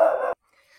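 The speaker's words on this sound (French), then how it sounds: "Vous entendez Mathieu, il aboie encore." A single dog bark, close and loud indoors, cut off sharply after about a third of a second and followed by near silence.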